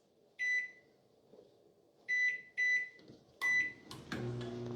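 A microwave oven used to melt coconut oil beeps several times while its keypad is pressed, and then its fan and magnetron begin a steady low hum.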